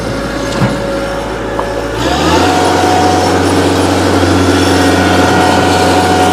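Engine of a 2011 Kubota B3200HSD tractor running while backing up, a steady loud diesel drone that rises in pitch and intensity about two seconds in, then holds a constant close hum.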